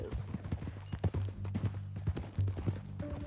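Horse hooves clip-clopping in Red Dead Redemption 2, a steady close rhythm of hoofbeats on the ground with faint game ambience and a brief snort-like sound near the end.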